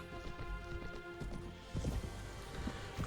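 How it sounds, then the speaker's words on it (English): Armoured horse galloping in Mount and Blade: Warband, a steady clip-clop of hooves running beneath layered background music and battle ambience, growing slightly louder near the end. "I do wish this horse was a bit faster, but at least very armoured."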